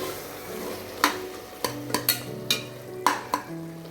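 A spoon stirs tomato rice masala mixed with curd in a pan, with a run of sharp metal scrapes and taps against the pan under a faint sizzle, and no voices.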